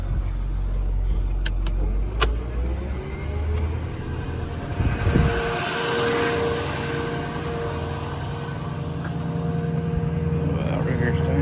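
A 2009 Ford F550 mechanics service truck with crane and compressor idles with its PTO engaged, a steady mechanical drone with a brief clunk partway through and faint clicks early on.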